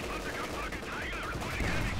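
Rapid gunfire crackles from a battle in Company of Heroes 2, with British snipers firing on a King Tiger tank; shots overlap densely amid battlefield noise while people talk over it.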